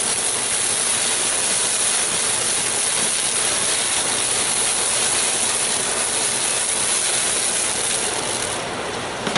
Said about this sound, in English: That's just the alcohol cooking off.